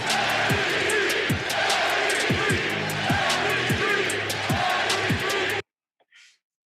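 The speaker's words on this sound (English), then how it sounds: "Oh, listen to the crowd." Basketball crowd roaring loudly and continuously with whoops and yells rising over a dense wash of cheering, then cutting off abruptly into near silence before a brief faint sound.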